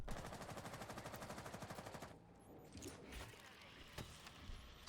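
Rapid automatic gunfire in a competitive first-person shooter match, fired at a hard wall: a steady rhythmic burst of about two seconds, loud and close, then quieter game noise with a few scattered single shots.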